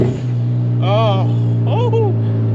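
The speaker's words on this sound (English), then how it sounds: "I haven't listened to this thing, like blow off valve going off. The HKS chirp, there's nothing like it." A turbo blow-off valve chirp from an HKS valve on a Hyundai Genesis Coupe gives two quick fluttering whistles over steady engine drone inside the car.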